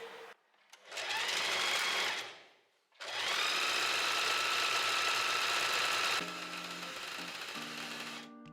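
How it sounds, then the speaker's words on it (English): A sewing machine stitches elastic onto bedsheet fabric in two sustained runs of fast, even whirring, loud and close, separated by a short pause. Near the end, the motor's tone shifts slightly lower. "and then I can start sewing."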